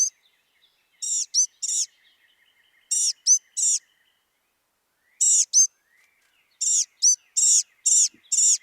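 A bird near a lake gives very high, thin squeaking calls in short two-note bursts that dip and rise, repeated in clusters separated by silent gaps, clear and fairly close.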